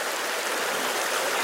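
Steady rushing water from a stream at a campsite where pie irons are being washed, a close, continuous broadband wash with no voices.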